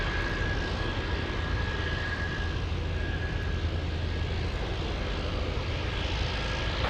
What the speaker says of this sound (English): we also have a Delta Airlines 757 getting closer